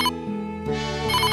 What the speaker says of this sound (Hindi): तभी फोन की रिंग बजती है।